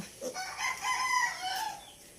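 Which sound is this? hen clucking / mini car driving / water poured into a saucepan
hen clucking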